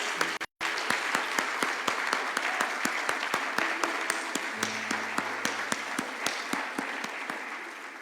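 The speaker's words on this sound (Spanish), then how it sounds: "Pues dale el aplauso fuerte a nuestro Dios." Congregation at a church service applauds steadily, with evenly spaced sharp claps in a regular rhythmic beat, close and sustained after a brief gap at the start.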